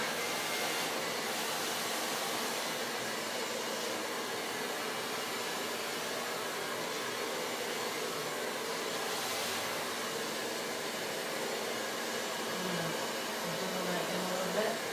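A hair dryer blows steadily while blow-drying hair in a salon, a constant airy whoosh close to the microphone with faint talk underneath.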